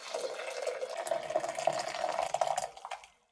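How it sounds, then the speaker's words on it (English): Hot water poured into a laboratory beaker over a mixture of solids, giving a steady bubbling, gurgling pour that lasts about three seconds and then stops abruptly, heard close with no talk. "I dumped everything that I had into a beaker, and on top of it, I added 500 mils of hot water."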